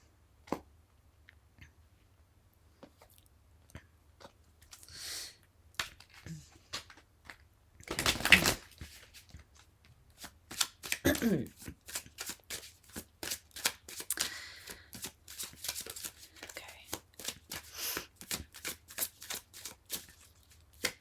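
Oracle cards are shuffled by hand during a tarot reading, with repeated soft riffling and tapping bursts, close and crisp, alongside quiet talk.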